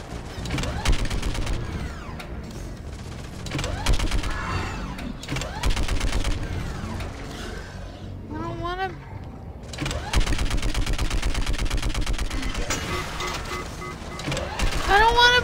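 A mounted gun in the Mass Effect 3 video game fires bursts of rapid shots in stretches, with loud mechanical clatter and a voice talking over the shooting.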